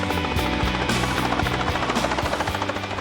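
A helicopter used for darting rhinos during a dehorning operation on a reserve drones loudly and continuously, its rotor chopping in a rapid steady pulse throughout with no voices.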